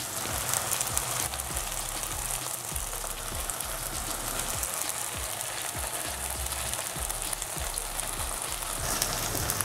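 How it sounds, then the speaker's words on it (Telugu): Marinated fish pieces fry in a pan over a medium flame, giving a steady, dense sizzle with soft crackling that carries on unbroken, close by and fairly loud throughout. "మీడియం ఫ్లేమ్లో స్టవ్ని పెట్టుకొని కాసేపు ఫ్రై చేసుకుందాం"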